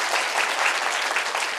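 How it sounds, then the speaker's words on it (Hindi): Audience clapping at a community event, a dense, steady wash of many hands applauding together at fairly close range, with no talk over it. "आप मेरे लिए तालियां बजा सकते हैं"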